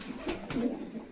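Red Pamoj pigeons coo in a soft, low burst of a few rolling notes, close by and with no voices.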